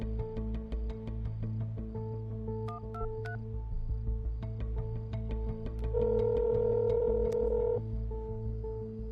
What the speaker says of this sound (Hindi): रुक जाओ, मिला रहा हूं ना पहले।